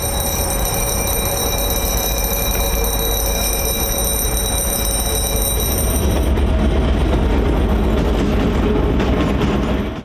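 Railway level crossing warning signal ringing steadily at a crossing, loud and continuous, with a train rumbling past close by through the whole stretch and growing heavier toward the end.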